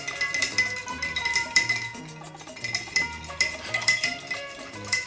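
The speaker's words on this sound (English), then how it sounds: "Give it a little bit of a mix" Ice cubes clinking against a glass as a blueberry mint refresher with lemon is stirred, quick repeated close rattles and chinks in a steady rhythm.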